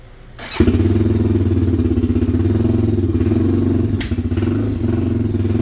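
A Honda 400EX ATV engine kicks on and settles into a steady, fast idle, chugging loudly and evenly without revving.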